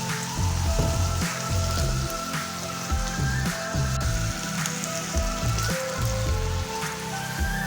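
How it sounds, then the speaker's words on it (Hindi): Vegetables frying in a pan with soy sauce and chili sauce, a steady loud sizzle with faint stirring knocks throughout and no talk. "अच्छे से इसे फ्राई कर लेंगे।"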